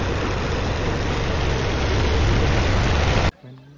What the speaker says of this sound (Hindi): ट्रैक्टर आ गया